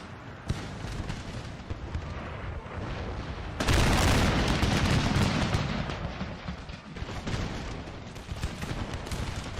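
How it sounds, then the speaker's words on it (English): Musket fire from French skirmishers in a Napoleonic wargame set in 1809, sniping at dragoons at a crossroads, comes as dense, sustained crackling volleys with a loud surge midway, fairly close and without voices. "At the crossroads, French skirmishers continue to snipe at the dragoons."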